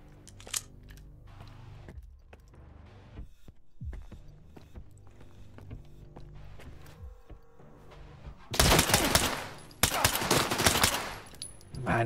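Bursts of automatic gunfire in the shooter game Stalker 2, with a few scattered shots early and then two loud sustained volleys near the end over a steady low ambient bed.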